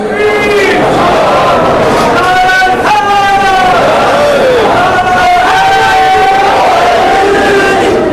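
A crowd at an Urs gathering for Ghaus e Azam chanting religious slogans, loud massed voices rising and falling in pitch in repeated bursts, dense and close.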